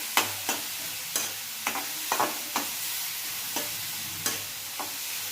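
A spatula scrapes and stirs onion paste frying in a pan for a dhaba-style whole masoor dal, giving about ten sharp scraping strokes over a low sizzle, close and clear with no talk.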